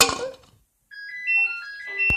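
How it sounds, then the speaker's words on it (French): A telephone at home rings with a short electronic ringtone pattern after a brief bit of noise, fairly close and clear, with no talking over it. "Téléphone sonne."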